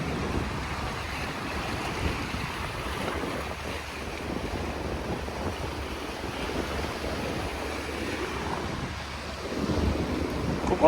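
At Mitsuishi rocks in Manazuru, waves break on a shallow rocky shore some distance away, giving a steady, fairly faint wash with wind noise over the microphone and a slight swell near the end.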